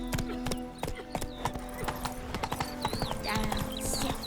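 Roach, Geralt's horse in The Witcher 3, running with quick, crisp hoofbeats in a steady rhythm, close and clear, with occasional chirping birds and faint ambience behind.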